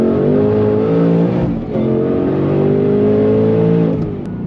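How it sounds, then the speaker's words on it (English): A supercharged 2024 Ford Mustang Dark Horse on the move, its engine blipping in a rev match between gear changes. Loud, close whine and roar dip briefly, then swell back up and hold before easing off. "You like that rev match?"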